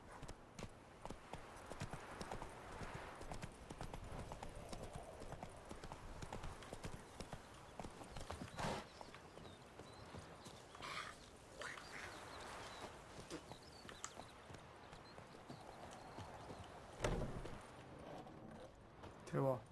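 Roach, the horse in the video game The Witcher 3, trots along with a steady, even clip-clop of hooves on the ground, fairly quiet, with a few sharper hoof strikes standing out.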